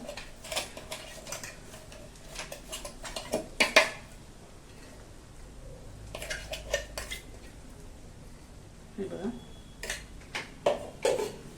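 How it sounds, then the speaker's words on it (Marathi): Metal spoon scraping and clinking inside a mixer jar in short bursts, with quiet pauses between, scraping out coarse dry red chilli thecha. "जे खाली सगळं लागलेलं असतं हे सगळं व्यवस्थित चमच्याने काढून घ्यायचं"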